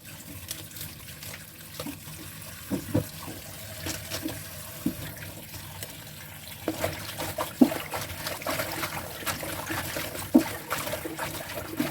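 Water spinach is washed by hand in a basin of water, with soft intermittent splashing and trickling that grows busier and sloshier in the second half, close and quiet, with no voices.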